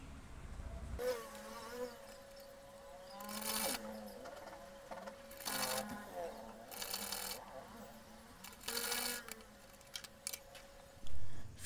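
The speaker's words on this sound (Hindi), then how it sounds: "अब ये जो पीछे से एक्स्ट्रा कपड़ा है उसे हम इस तरीके से दबा लेंगे और इस तरफ से सिलाई लगा लेंगे।" Someone sews fabric for a nighty on a sewing machine, with short whirring bursts of stitching that start and stop several times, separated by quieter pauses and small handling noises.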